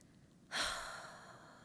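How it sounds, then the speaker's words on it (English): A single deep breath let out slowly in a long, soft sigh, a quiet exhale that rises suddenly and fades gradually in a calm indoor setting. "Breathing deeply, because what you notice in your body is as soon as you kind of let the air out, you're grounded."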